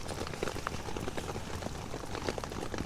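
Heavy rain drumming on a tarp and tent while camping in Scotland, a dense, steady patter of countless drops spreading across the whole range, continuous and close with no voices.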